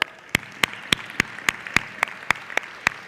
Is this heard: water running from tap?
no